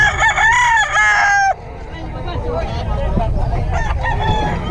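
A rooster crows loudly and close at the start, then gives way to outdoor background noise with faint clucking and distant voices.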